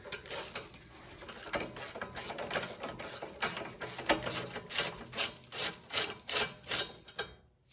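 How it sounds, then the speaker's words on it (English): A thread die is turned by hand onto the threads of a front shock absorber strut on an Acura RDX, giving a rapid ratcheting, scraping click in regular bursts that grow louder and more distinct toward the end. "we're gonna spin this die on all the way until it bottoms out"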